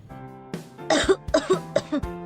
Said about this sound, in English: Since evening, I'm coughing a lot.